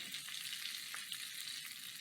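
Green onions for a marsala dish sizzle in a hot pan, a steady crackling fry with faint stirring ticks, close and alone without talk.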